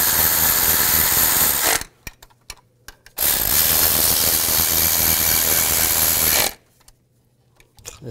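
A power tool tightening chain guide bolts on a 2010-2017 Chevy Equinox engine, two loud sustained bursts of whirring ratchet noise separated by quiet gaps with small clicks and handling sounds.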